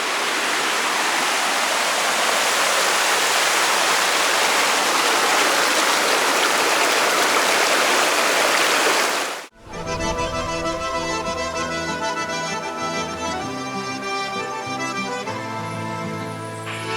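Cold mountain water rushes steadily in a loud, close, hissing stream for about nine seconds, then cuts abruptly to a different passage of tonal music.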